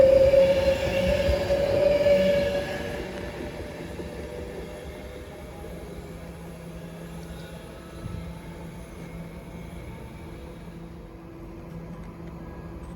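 Flying Scotsman steam locomotive passing through Watford Junction on the West Coast Main Line, a loud rumbling train sound with a brief whistle-like tone early on, fading to a steady lower rolling rumble as the train continues past.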